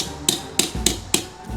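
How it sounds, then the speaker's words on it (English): Hammering a damaged diecast toy car's roof back into shape: four sharp, close metallic taps spaced roughly evenly, each with a brief ringing tail, and no speech. "Hammer that back!"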